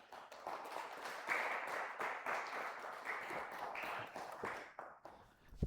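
A church congregation claps steadily and fairly faintly, a dense patter of applause that fades out toward the end.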